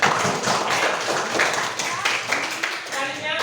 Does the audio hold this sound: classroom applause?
yes